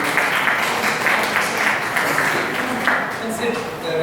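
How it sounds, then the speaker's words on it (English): A quiz fest audience gives a qualifying college team a round of applause, moderate steady clapping mixed with crowd murmur and some voices talking over it. "a round of applause, please, for the team from Government College of Arts, Science and Commerce, Kandola"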